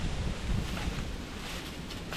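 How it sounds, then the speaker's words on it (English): Steady wind gusts rumble and buffet the microphone outdoors at a build site for a shelter, a continuous low roar with no talking. "It is very windy out today."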